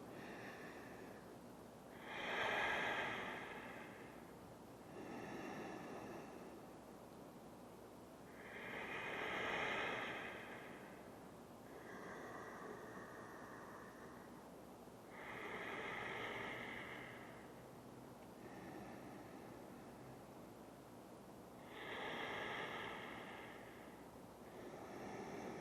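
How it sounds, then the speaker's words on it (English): Slow, deep breaths during a held hatha yoga pose, each long inhale and exhale rising and falling in a steady rhythm, close and soft, with airy noise in the background. "We stay here for 5 deep breaths."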